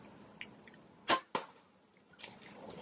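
An arrow is loosed from a bow at a whitetail deer: a sharp snap of the release, then a second quick impact or thwack just after, in a quiet outdoor setting with faint rustling.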